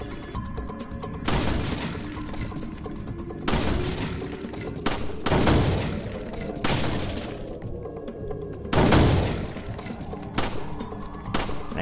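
Pistol shots in Resident Evil 4 ring out singly and spaced apart, each loud crack followed by a crashing, echoing tail and mixed with thuds and shattering noises, with no talk over them.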